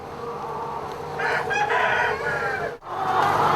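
Chickens on an open free-range farm cluck continuously while a rooster crows loudly and close, one drawn-out call over the busy flock, with no talking.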